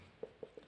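A pen writes an equation by hand on paper in three quick, faint strokes, close and quiet, with no talk.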